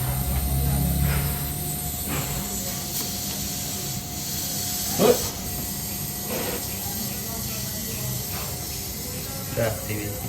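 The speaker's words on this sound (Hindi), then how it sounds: "हमने यहाँ से गैस निकाल दी, पिन होल में बाहर निकाल दिया।" Leftover refrigerant gas hissing out through a pinhole in a refrigerator pipe during repair, a steady close rush with a few sharp spikes, running throughout.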